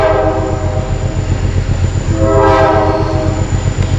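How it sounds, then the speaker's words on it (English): A train passing on the Great Allegheny Passage between Cumberland and Frostburg, its horn sounding loud and sustained over a constant heavy rumble of the cars rolling close by. "here comes the train"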